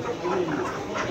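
Chickens cluck at a busy market, a short burst of fowl calls close by with crowd noise around.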